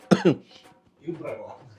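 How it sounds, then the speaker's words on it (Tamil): Two quick sharp coughs close up, followed by a voice speaking briefly. "எனக்கு வருது பாய், இருமலா வருது"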